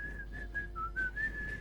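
A person whistles a short tune alone, a thin wavering melody of a few quick notes held fairly steady and close, slightly breathy.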